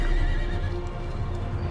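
The warhorse Bucephalus gives a loud, close neigh in an Age of Empires II: Definitive Edition cutscene about Alexander the Great, set against a dense, rumbling backdrop.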